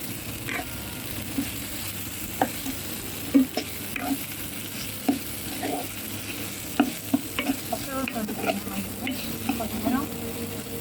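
Mutton fries in a pan with rock salt and turmeric for a mutton gravy, a steady close sizzle broken by intermittent clicks and scrapes of stirring, with no voices.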